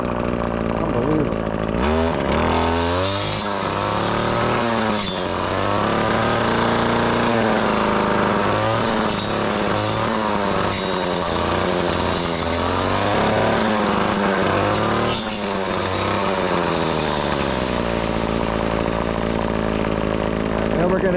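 A petrol weedwacker brush cutter runs steadily while cutting fast-growing grass, its loud engine drone rising and dipping in pitch as it bites into growth, with someone talking over it.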